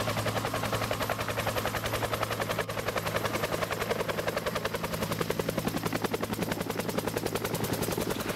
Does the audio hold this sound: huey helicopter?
yes